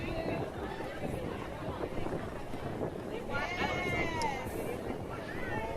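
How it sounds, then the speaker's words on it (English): Wind gusts outdoors on open water during a sailing race, a steady broadband roar with buffeting against the microphone throughout, and faint voices and crew noise underneath. "Wind is picking up now."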